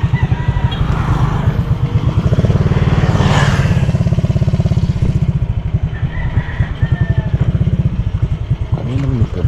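A motorcycle engine runs close by, loud and steady with a fast pulsing putter that rises and settles a little as it revs, while voices talk faintly in the background.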